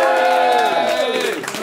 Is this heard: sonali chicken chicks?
no